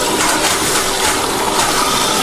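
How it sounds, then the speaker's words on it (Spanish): Water jets from a washing machine's dispenser spray into the drum, a loud, steady rushing gush throughout, on a machine that isn't filling with water properly. "vemos por dónde van cayendo las chorras de agua"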